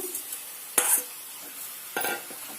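Chicken fry is stirred in a pan: two distinct scraping strokes of a utensil over a quiet background sizzle.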